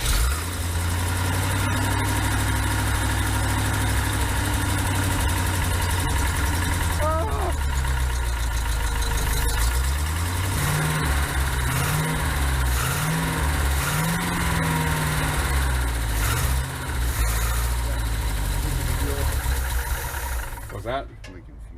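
Engine of a 1956 cab-over truck idling loud and close after being restarted, a rough, rattly low rumble that wavers in speed, with voices talking over it.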